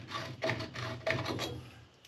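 Deburring file or reamer scraping the outside of a copper pipe during a zone valve installation, heard as a series of quick rasping strokes, close and fairly loud, with no talk.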